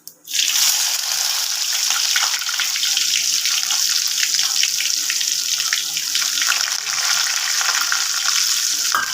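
Loud, continuous sizzling of cumin seeds hitting hot oil for a lentil tempering, starting abruptly and crackling steadily throughout, close up.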